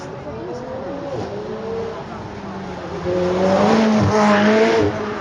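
A McLaren 720S supercar races up a straight, its engine note rising and falling in long sweeps, louder toward the end, with a brief tyre squeal mixed in.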